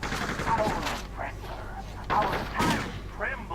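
A warning gunshot in the video game Just Cause comes as sharp bursts of gunfire mixed with other game noise, with someone talking over the action.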